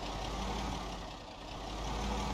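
A car engine idles in the Project Zomboid video game, a steady low rumble holding at a constant level with no voices over it.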